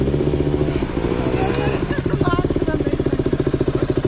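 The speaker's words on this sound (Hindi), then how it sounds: "इसमें 390 का एग्जॉस्ट लगा है भाई एकदम।" A KTM Duke 200 motorcycle fitted with an RC390 BS3 exhaust runs close by, its engine note loud and steady with a rhythmic, pulsing exhaust throb that grows choppier toward the end, while voices murmur faintly in the background.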